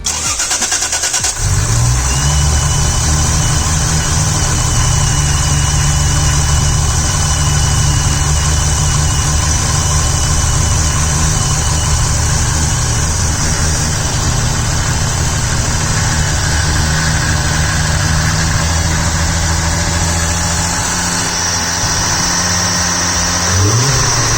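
A Toyota 1JZ/2JZ VVTi engine cranks and catches, then settles into a loud, steady idle that drones close by for the rest of the clip.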